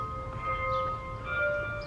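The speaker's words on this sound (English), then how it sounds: "you ain't in the presence of a church until you have the bells ringing." Bells at St. Philip's Church in Southport, North Carolina ring out with sustained metallic tones and a lingering hum, heard outdoors at a moderate distance over low wind-like rumble.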